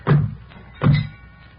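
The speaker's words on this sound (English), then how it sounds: "Slam the doors." Two heavy truck doors slam shut in quick succession, each a loud, close, dull thud with a brief ring-off, the second following under a second after the first.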